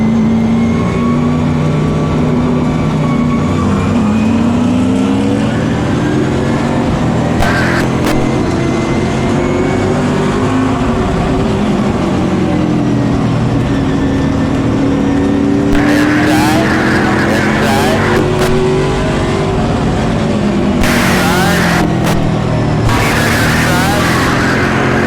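Race cars roar around the circle track at Birch Run Speedway in a CRA JEGS 100-lap race, a continuous loud engine drone with rising and falling pitch as the pack laps, with bursts of nearby cars passing and brief commentary underneath.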